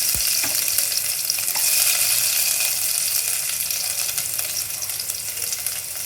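Garlic fries in hot oil for a Tamil-style tomato kochi, a steady close crackling sizzle with a sharp clink of a utensil at the very start and a faint, even hiss throughout.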